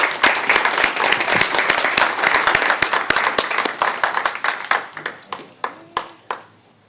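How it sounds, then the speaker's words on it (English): Audience applause at a city council meeting, a loud burst of many hands clapping that thins out toward the end into a few scattered, separate claps. "How about one more round of applause and a picture?"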